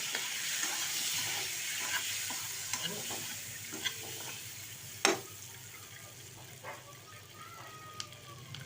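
Boiled eggs fry in a little oil with turmeric for egg biryani, a soft, steady sizzle with scattered stirring scrapes and one sharp knock midway, faint and close with no voices.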